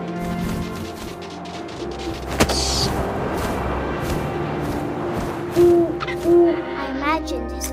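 An owl hoots twice in What Remains of Edith Finch, short close calls heard over a steady wind-like ambience, with a sharp knock a few seconds earlier.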